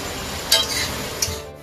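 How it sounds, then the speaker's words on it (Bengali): Carrot, beans, capsicum and onion stir-frying in a pan give a steady, dense hiss of sizzling, with two brief metallic clinks from a utensil, close and loud with no voices. "এখন আমাদের সবজি ভাজা চলছে। গাজর, বিনস, ক্যাপসিকাম, পেঁয়াজ ভাজবো"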